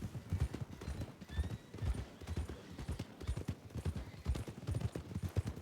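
A horse walks with steady clip-clop hooves, a close, rhythmic series of muffled thuds at an even pace, with a faint whinny-like squeal over the footfalls.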